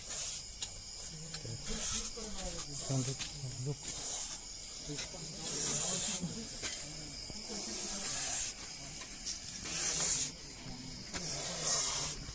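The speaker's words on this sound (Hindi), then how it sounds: "इस सांप की पुकार सुन सकते हैं। लगभग कुकर के सीटी इतना ये" A Russell's viper gives a long, harsh hiss like a pressure-cooker whistle, rising and falling in repeated breathy bursts, close by in a house compound, with someone talking intermittently between them.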